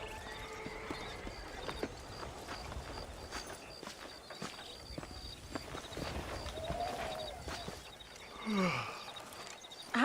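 Horse hooves clip-clop through a ride in the Western video game Red Dead Redemption, a steady run of soft hoof strikes under a hum of game ambience, with a brief louder swell near the end and no speech.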